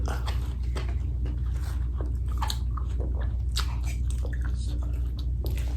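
Close, repeated biting and chewing while eating Thai fish dip with blanched vegetables, wet crunchy mouth sounds over a steady low hum.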